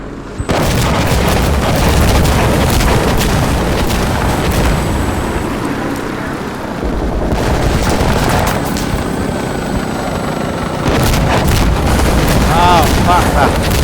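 Sustained helicopter rotor roar with booming explosions and gunfire in the video game Sandstorm, loud and continuous through the whole stretch, the blasts landing as heavy thuds over the dense drone.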